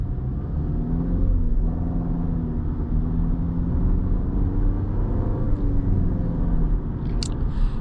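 Steady low engine rumble and road drone inside a 2021 Volkswagen Passat with a turbocharged engine while driving, loud and continuous with a smooth hum throughout.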